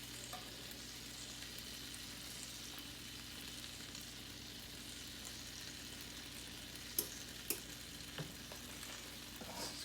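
Beef back ribs cook in barbecue sauce with a faint, steady sizzle throughout, broken by a few brief clicks near the end and no talking.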